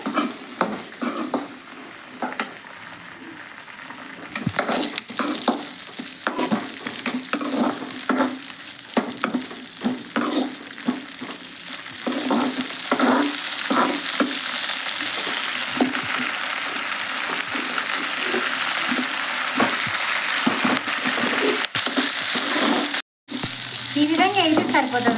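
Ingredients for mint chutney sizzle steadily in a hot pan while a spoon scrapes and stirs them in frequent, irregular strokes, close and fairly loud, with a brief dropout near the end.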